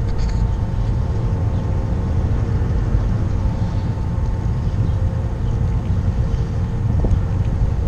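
Ferry boat crossing a lake from Essex to Vermont on a sunny day, with a steady low engine rumble and wind buffeting the microphone throughout, no talk.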